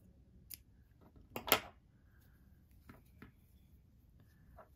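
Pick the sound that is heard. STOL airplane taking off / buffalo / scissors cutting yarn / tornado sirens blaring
scissors cutting yarn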